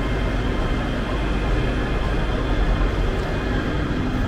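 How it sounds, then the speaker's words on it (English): ScotRail train rolling along, a steady loud rumble and rattle of the carriage heard from inside, continuous with no talk over it. "So that's the train. It's taking us to a place called Milngarvey"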